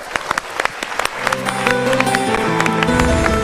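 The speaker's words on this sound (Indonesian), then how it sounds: "Kita berikan tepuk tangan." A seminar audience breaks into applause. It starts as sparse, separate claps and builds into denser clapping, with voices and tonal sound rising underneath.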